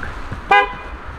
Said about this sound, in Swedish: Var det du som tutade?